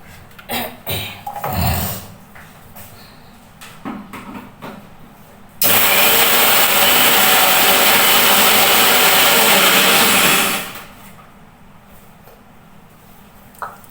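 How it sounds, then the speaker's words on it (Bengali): A mixer grinder dry-grinds oats in one loud, steady burst of about five seconds that starts abruptly and then winds down. Softer clattering and handling noises come before it, and it is quiet afterward. "ওটসটাকে আমি এবার শুকনো গুঁড়ো করে নেব"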